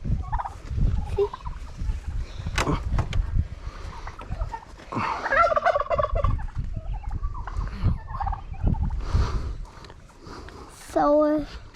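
Turkeys at Genesee Country Museum in Mumford, New York, let out a few short gobbles amid outdoor farm noise, while people talk nearby throughout.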